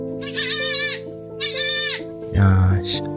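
Anglo-Nubian goat bleating at a dawn kidding, three wavering calls in a row, the last louder and deeper, close and clear with no talk.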